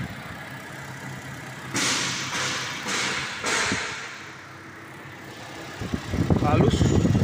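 A Toyota Hilux with a VVT-i 1TR engine idles steadily after starting, a low continuous hum with some louder bursts mid-clip and a rise in rough low rumble near the end.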